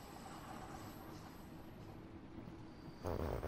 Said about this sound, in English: Right, we're off, guys. We're on the tube.